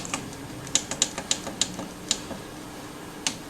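Buttons pressed on the keypad of an Entec EVRC2A recloser controller while entering settings, a string of sharp plastic clicks in an irregular rhythm, then a pause and two more presses.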